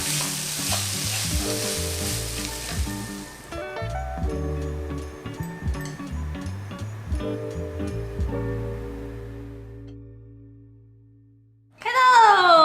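Potatoes with pickled mustard greens are stir-fried in a wok for a vegan dish, giving a loud sizzle with rhythmic scraping strokes that fade to quiet before a brief louder burst at the end.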